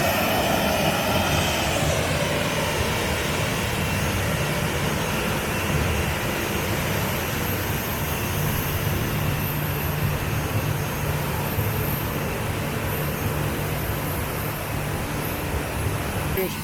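Loud, steady roar of a Ryanair jet airliner's engines close by on the apron, a continuous broadband rumble and whine that holds level throughout.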